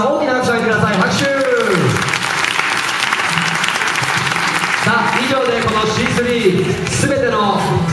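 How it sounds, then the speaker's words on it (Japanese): A large audience at an all-Japan BMX flatland championship event in Komatsu applauds the staff, with steady clapping that fills the space for several seconds while an MC's amplified voice talks over it. "もう一度こちらのスタッフの方にも皆さんの方から大きな拍手をください"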